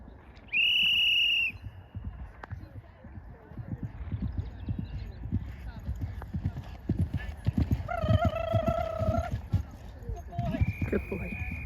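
Hooves clip-clop across the ground at a BE100 eventing competition at Oxstalls, a rhythmic near gallop under a commentator's voice, with a horse whinny near the start, a high whistle-like call midway and another at the end.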